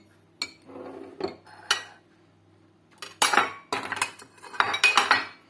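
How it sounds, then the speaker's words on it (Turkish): Sumac spooned from a tablespoon onto onions, close metallic clinks and scrapes of the spoon against the bowl and dish in short bursts, growing busier toward the end, heard alone. "Sumağımızı da böyle silme bir yemek kaşığı sumak soğanımıza koyalım."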